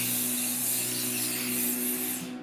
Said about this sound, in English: take my hairspray,